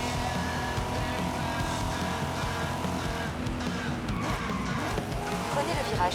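A Corvette driving in the racing game Forza Horizon 5, its engine droning steadily with shifts in pitch as it accelerates, heard alongside a player's voice and navigation prompts.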